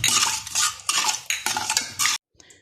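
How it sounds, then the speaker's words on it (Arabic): A large spoon stirs sardine ingredients in a metal bowl with close, loud scraping and clinking in repeated strokes, ending abruptly, and no one talks. "صافي غادي نخلط هاد العناصر مع بعضياتها."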